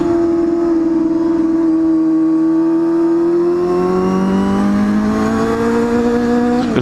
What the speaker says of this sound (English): as you can hear, this bike sounds amazing